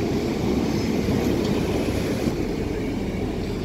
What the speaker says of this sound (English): That's arriving here for this local service to Sheffield.